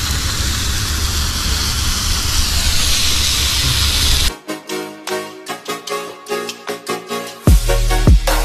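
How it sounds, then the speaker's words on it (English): A steak sizzles with a loud, steady hiss for roughly the first half. The hiss then stops abruptly, and unrelated tonal, rhythmic sounds follow. "Look at that sizzling."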